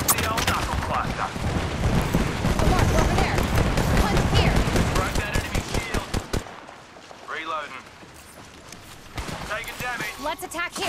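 Rapid gunfire bursts in the video game Apex Legends, dense crackling shots with impacts during a firefight, loud and close, easing to scattered sounds with game voice lines at the end.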